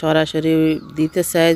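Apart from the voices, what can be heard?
No distinct noise like a dog, phone or traffic.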